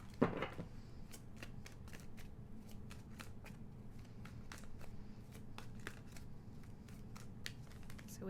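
Tarot cards are shuffled by hand in a steady run of soft, crisp riffling flicks over a low background hum, with a louder flurry at the start; no voices.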